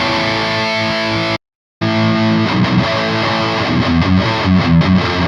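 Electric guitar played loud and distorted through a Celestion Creamback M speaker, a sustained chord giving way to a rhythmic riff after a brief silent gap, dense and continuous with no talking.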